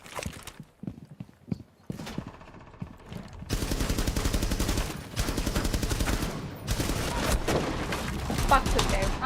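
Gunfire in the video game Rainbow Six Siege: a few scattered sharp shots, then sustained rapid automatic bursts that stay loud and continuous under other game noise.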